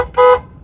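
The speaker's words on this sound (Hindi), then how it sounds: "तो ये बाकी हॉर्न लग गया ना," A newly fitted car horn on a Nissan Micra gives one short honk, about a fifth of a second long, heard from inside the car with the windows closed.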